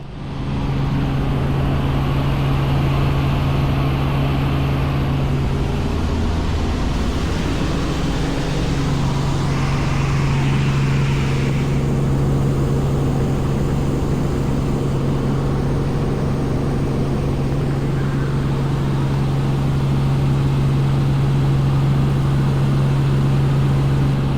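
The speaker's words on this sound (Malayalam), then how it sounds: "ഇതുവരെയുള്ള കാഴ്ചകൾക്ക് ശേഷം ഹെലികോപ്റ്റർ തിരികെ പറക്കുകയാണ്" Helicopter flying low over the Atlantic coast and beach, a steady loud engine and rotor drone with a constant hum, sustained without pause throughout.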